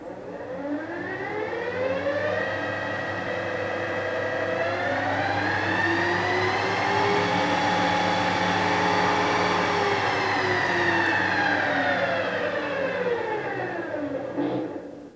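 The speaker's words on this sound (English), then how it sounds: "that sounds a lot better since I sorted out the grumbling on the main gearbox" A Harrison universal milling machine running after servicing of its main gearbox, giving a steady mechanical whine whose pitch slowly rises and then falls again, loud and continuous, with a low hum underneath and no speech.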